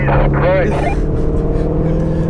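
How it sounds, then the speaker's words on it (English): A silver Porsche Cayman speeds past a Shelby GT350 on the road, its engine rising and fading briefly beneath the steady drone of the car's own motor while someone talks over it. "That was a Porsche Cayman, in case you didn't catch that silver streak that just passed us."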